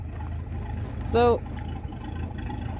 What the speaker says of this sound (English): and you can hear that just awesome exhaust